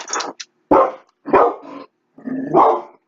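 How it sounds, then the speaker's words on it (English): A pet dog barks indoors in loud, close bursts, about four separate barks spaced across a few seconds with silence between them. "I apologize for my dog barking in the middle of the chat."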